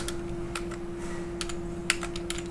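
An SQL query being typed on a computer keyboard, irregular clusters of crisp key clicks at close range over a steady low hum, with no voices.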